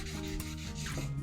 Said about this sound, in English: just give it a light sand. Again, very little pressure.